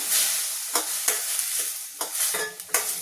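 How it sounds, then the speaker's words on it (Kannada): Ginger and garlic fry in a pan for a mushroom gravy, a loud, close, bright sizzle with quick spatula strokes scraping through it every fraction of a second. "ಈಗ ಇದೆಲ್ಲ ಸ್ವಲ್ಪ ಚೆನ್ನಾಗಿ ಫ್ರೈ ಮಾಡ್ಕೋಬೇಕು"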